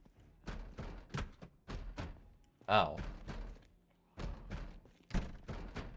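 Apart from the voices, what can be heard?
zombies banging on doors outside, Project Zomboid video game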